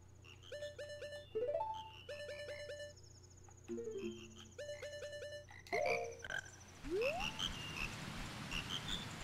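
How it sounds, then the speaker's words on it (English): A chorus of frogs croaks in The Legend of Zelda: Majora's Mask, with repeated synthetic croaks and chirps stepping through a melody over a steady hum, then a rising sweep into a noisy rain-like wash with scattered bright chirps. "you can hear the little frog singing"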